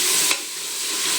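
Tomatoes frying in oil with salt while being stirred in a pan, a steady close sizzle with a brief scrape of the spoon near the start, no talking.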